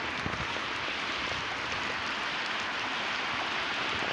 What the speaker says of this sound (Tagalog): Medyo malakas na talaga yung ulan dito.